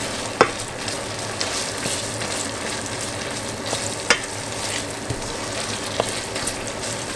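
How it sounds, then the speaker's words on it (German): Onions with tomato-pepper paste sizzling and frying in a pan, a steady close crackle with occasional sharp clicks of a utensil stirring, no talking. "Auch schön mit anbraten."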